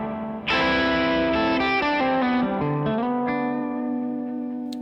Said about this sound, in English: I do keep the spring on there, and then I have kind of a more intense reverb